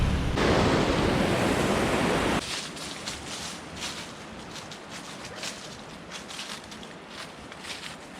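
Steady roaring rush of a waterfall in Uzundere, Tortum, Erzurum, falling into lakes, loud and broadband at first, then a softer continuous flow with a hiss for the rest.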